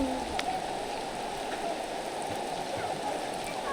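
Steady rain falls in a rural Lao village deep in the forest, a dense continuous patter on surfaces, fairly close, with faint voices in the background.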